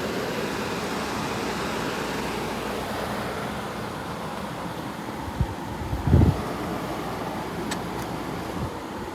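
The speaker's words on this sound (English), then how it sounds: "you can cut out the noise of the compressor and the outdoor fan" Steady broadband whoosh of a 2001 Kenmore 8,000 BTU room air conditioner, compressor and outdoor fan running continuously at moderate level, with a brief low thump near the end.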